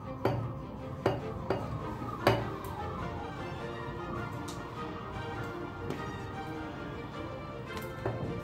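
Roasted vegetables being moved into a little jar, with scattered clinks and taps of utensil on glass and dishes over a steady low kitchen background, close and moderately quiet, with no speech.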